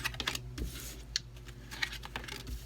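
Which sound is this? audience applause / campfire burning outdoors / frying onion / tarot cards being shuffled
tarot cards being shuffled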